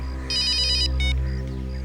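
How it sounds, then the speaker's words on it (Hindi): A mobile phone ringtone rings loudly in a tense police drama scene, sounding as two bursts of bright repeating electronic tones over a steady low background hum. "अभिजीत का फोन है।"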